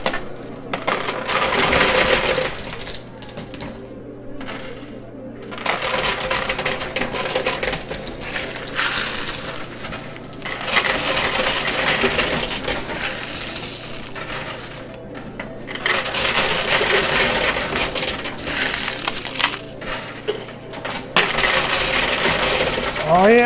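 Coins clatter and drop continuously inside a high limit coin pusher machine, a dense metallic jingling with mechanical ratcheting and sliding underneath, loud and close with brief quieter gaps.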